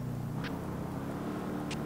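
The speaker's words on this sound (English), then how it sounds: "I hear their car making noise." A car engine in a police roleplay video game hums faintly and steadily in the background, a low continuous drone with a couple of brief higher clicks.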